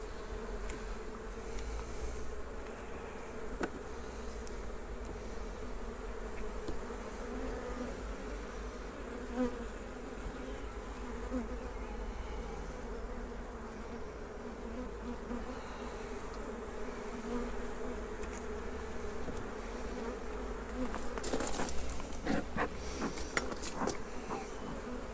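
Honey bees buzz around an open back-garden hive, a dense continuous drone of many insects nearby, with louder individual buzzes passing close toward the end.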